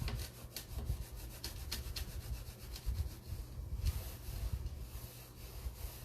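A netted dish cloth rubs and scrubs across a wet board while crumbs and spills are wiped up, a steady close-up scratchy friction with repeated strokes and no talking.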